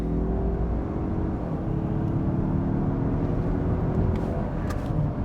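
A 2023 Mazda CX-30 Turbo AWD launches hard from a standstill, its engine rumbling loud and steady with a brief chirp of front wheel spin, heard from inside the cabin.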